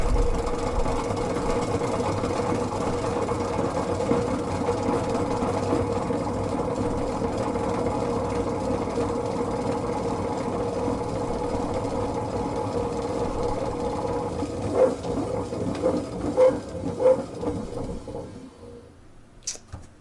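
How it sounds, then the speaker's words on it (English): A homemade honey extractor spins with its bottom pin wobbling in the holder, giving a steady mechanical rumble and hum that turns into irregular knocks and rattles as it slows and fades near the end. "The sounds you're hearing are just the pin at the bottom,"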